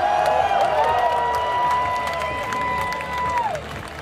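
A large festival crowd at Mysteryland Chile 2013 cheers and roars loudly at the end of the day-one show, under a sustained, gliding synth tone that fades near the end.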